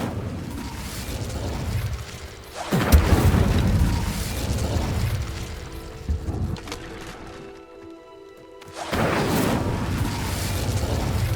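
Incendio fire spell cast in the Hogwarts Legacy video game, heard as loud whooshing fiery bursts: one big blast near the start, a sustained roar, a brief quiet gap, then another burst, with no talking.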